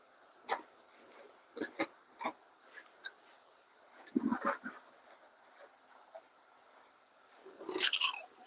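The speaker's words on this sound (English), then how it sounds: "I apologize if you hear my chewing on the mic." Someone chews food close to a microphone, making irregular crunches and clicks that come in scattered bursts, with a longer cluster near the end.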